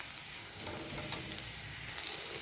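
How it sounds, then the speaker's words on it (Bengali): Grated garlic and onion frying in oil in a pan, a steady close sizzle running throughout with faint stirring scrapes mixed in. "এবারে আমি আদাটাকেও পেঁয়াজ আর রসুনের সঙ্গে ভেজে নেব।"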